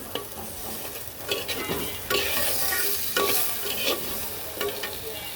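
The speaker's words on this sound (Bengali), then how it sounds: "এই আমি দিয়ে দিলাম সামান্য পরিমাণে জল মশলাটাকে সুন্দর করে কষানোর জন্য" Spice masala for a kaikla fish dopeyaja with potato and tomato sizzles after a splash of water, stirred in a pan with scraping strokes and bursts of hissing steam, close and moderately loud, no voices.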